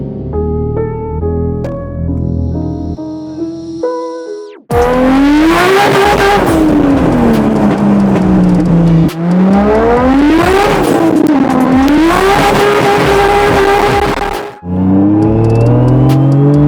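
A Nissan Laurel drift car's engine revs hard and close, rising and falling through repeated loud sweeps after a quieter, rougher idle, with a sharp cut near the end before revving again.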